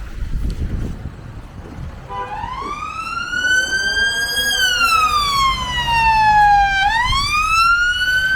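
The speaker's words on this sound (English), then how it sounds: "Lights and Sirens!" A wailing emergency siren rises and sweeps slowly up and down, loud and fairly close over low traffic rumble, after a short stretch of street noise.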